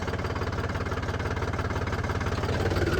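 A diesel pickup truck engine chugs steadily in a fast, even knocking rhythm, close and loud throughout with no talking, on a farm.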